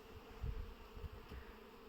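Honey bees buzzing inside an opened hive, a brood-bearing colony being prepared for merging with another, give a low, steady hum with a few louder swells close by.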